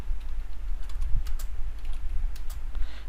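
Light keystrokes on a computer keyboard while typing a document title in Microsoft Word, scattered and soft over a steady low hum.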